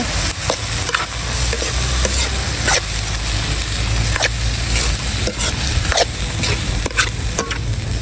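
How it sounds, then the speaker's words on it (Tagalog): Vegetables for squid stuffing sizzle steadily in a hot pan while a utensil stirs and scrapes in repeated sharp strokes, close and fairly loud, with no talking. "Haluin lang po natin ito ulit. Hintayin lang po nating maluto yung mga gulay."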